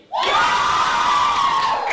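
A school assembly crowd of secondary students cheers loudly and continuously, a sustained roar of shouts and whoops that swells in quickly and holds at full volume throughout.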